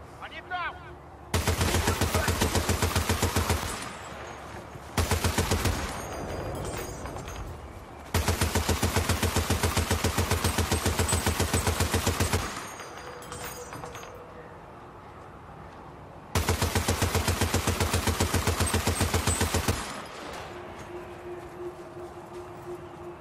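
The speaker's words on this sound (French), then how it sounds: "Vite, quelqu'un sur cette mitrailleuse!" Loud, sustained bursts of machine gun fire in the video game Battlefield Bad Company 2, set in a space station, rattling in three long runs separated by quieter gaps with background noise.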